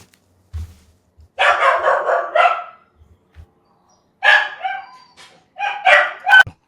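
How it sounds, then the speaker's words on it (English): A dog barks in several bursts, a cluster of loud barks followed after a pause by two more short volleys, close and clear with quiet gaps between. "Marissa, if you can edit that, the barking and the pause out, that'd be amazing."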